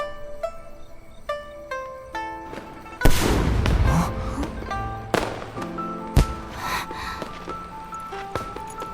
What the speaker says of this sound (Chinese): 这是烟花的声音。